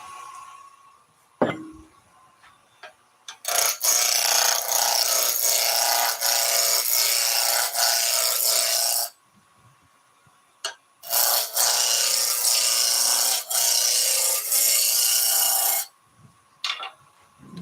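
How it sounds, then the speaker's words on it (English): A roughing gouge cuts into a spinning wood blank on a lathe, giving two long loud passes of harsh, rasping shaving with a pause between them, heard up close and with no talking. "Lathe speed 0, turn the lathe on. I've checked to make sure nothing's touching the tool rest. We can go straight in with a roughing gouge."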